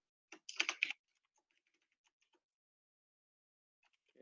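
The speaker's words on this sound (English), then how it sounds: "I'm going to type welcome to SPE-KSA." A burst of rapid typing on a computer keyboard during a hacking demonstration, a short cluster of close clicks followed by a few faint scattered taps, then near silence.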